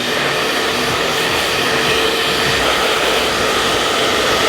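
A hair dryer running on low speed and high heat, blowing through a freshly cut textured crop, a constant close whooshing roar with no breaks and no speech.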